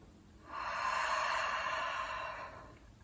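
One long, breathy exhale lasting about two seconds is heard alone, close to the microphone.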